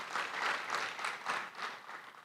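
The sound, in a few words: congregation applause in church service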